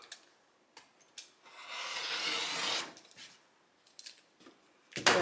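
Quilt fabric for a basket patch quilt top being trimmed, a long rasping cut running for about two seconds, then a few light scrapes and taps, close and alone.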